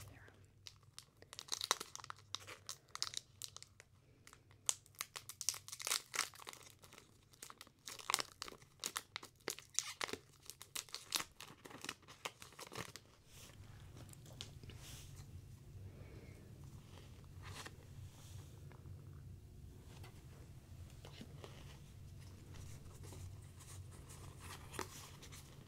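Pokemon Champion's Path booster packs are torn open and their foil wrappers crinkle in dense, close bursts for the first half. A steadier, softer rustle of shuffled cards follows, with a voice speaking now and then.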